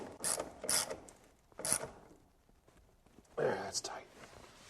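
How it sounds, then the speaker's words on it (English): A ratchet wrench clicks in short, close bursts as a lag bolt is driven at an angle into a wooden stair carriage, with a person talking between the strokes. "I'm putting the lag bolt in at an angle so I can catch some of the wood inside the carriage"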